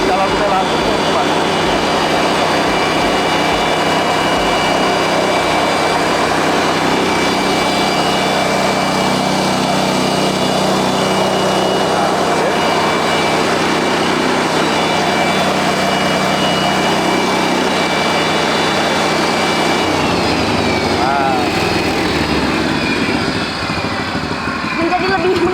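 A loud flour grinding machine milling taro drones steadily with a dense, roaring hum, running continuously and close by, its pitch shifting slightly near the end.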